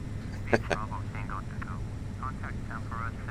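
A Douglas DC-3 propeller engine in Microsoft Flight Simulator X hums as a steady low drone, with someone talking over it throughout and a couple of short clicks.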